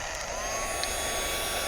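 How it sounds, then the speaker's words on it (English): A heat tool blows a steady, even airflow while melting embossing powder for a stenciled card, a constant whooshing hum with no voices. "So you do need a heat tool, not a hair dryer, but a heat tool."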